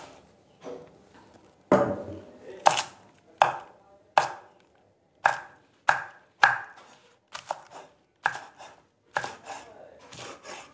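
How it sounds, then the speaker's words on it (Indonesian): A knife chops mustard greens on a board in a run of sharp, uneven strokes, some in quick pairs and some spaced out, close and clear with no talk. "Nah, ini aku potong-potong sawinya."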